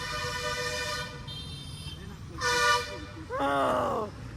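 A bus horn honks on a busy Vizag street, several short tonal blasts with pauses between, the last a wavering toot, over traffic rumble and background voices.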